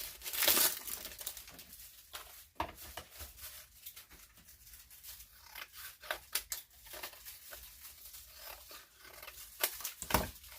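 Plastic packaging crinkles and crackles close by, broken by a few sharp snips of scissors cutting through it, with soft rustling between the louder bursts.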